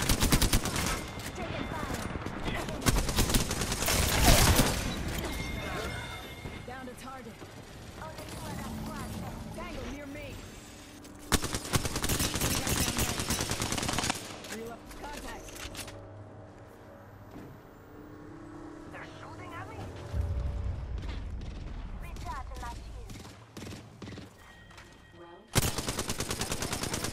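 Gunfire in a video game: repeated heavy machine-gun bursts and scattered shots come and go over a long stretch. A vehicle engine rumbles in places, and voices talk between and over the firing.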